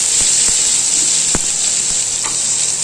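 Ridge gourd skin and urad dal roasting in a pan, a loud steady hiss of frying with occasional sharp taps of a spoon against the pan.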